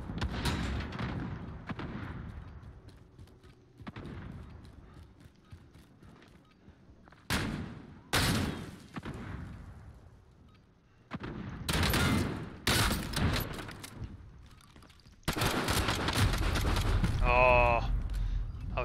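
Gunfire from a scoped shotgun in the video game Call of Duty Warzone, with several loud separate blasts spread across the scene and talk between them.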